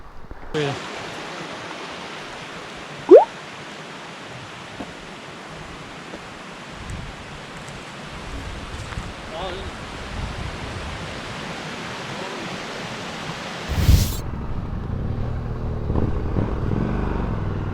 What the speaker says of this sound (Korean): 폭포 보십시오